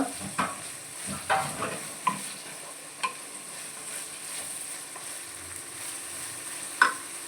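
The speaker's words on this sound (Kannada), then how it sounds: "ಫ್ರೈ ಮಾಡ್ಕೊಳ್ಳೋದು ಸ್ವಲ್ಪ ಎಣ್ಣೆಯಲ್ಲೇ ಫ್ರೈ ಆಗಬೇಕದು" Vegetables fry in a little oil over high flame for chicken fried rice, giving a constant bright sizzle with a spatula clacking and scraping against the pan every second or so, close up and with no talk.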